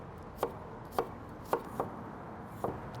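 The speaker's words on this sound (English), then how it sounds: "we're gonna chop down some red onions, nice and fine" A knife chops red onions finely on a cutting board, five or six distinct close knocks at a slow uneven pace, with no voices.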